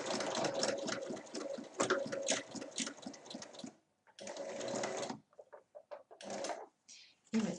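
A sewing machine backstitches a fabric cushion cover in several bursts, a long steady run followed by shorter stop-start runs, close and fairly quiet with brief pauses between.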